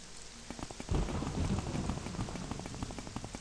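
Steady rain patters through a thunderstorm in the video game Morrowind, with a deep rumble of thunder rolling in about a second in and the downpour continuing loudly with no one talking.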